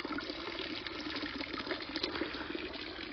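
Water flowing steadily from a storage tank of about 2000 litres, a continuous soft splashing gush with no pauses.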